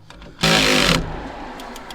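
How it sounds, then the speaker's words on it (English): An electric impact wrench runs a single loud half-second burst tightening a drop link nut on a Fiat Panda 4x4's front suspension, then cuts off, leaving faint workshop noise. "very helpful electric wrench"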